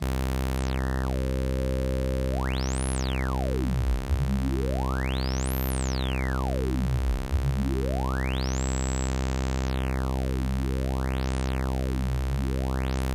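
A Tom Oberheim SEM Pro synthesizer filter at full resonance sweeps a steady, sustained tone up and down, with a squealing resonant peak rising and falling in repeated slow arcs across the range, no talking.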